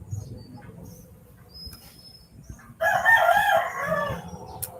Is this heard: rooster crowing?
yes